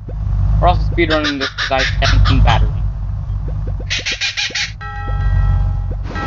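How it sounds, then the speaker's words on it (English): Squawking honk-like calls of a demon chicken character in the game Crossy Road ring out in rapid bursts, loud and close, interleaved with a person talking over a low background hum. "That is the sound of a demon chicken."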